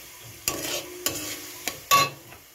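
Four distinct scraping strokes of a spatula stir a salted, sweetened spice paste in a frying pan, each stroke a short rough swipe over a faint sizzle, the last one loudest; no voices.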